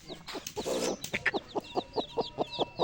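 A hen clucks in a steady, rhythmic series of short calls while small chicks peep softly at a higher pitch, close by.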